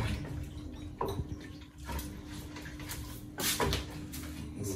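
Water is poured into a cooking pot over meat for a Ghanaian peanut butter soup, a soft continuous splashing rush with a few louder bursts and knocks, heard close but at low volume.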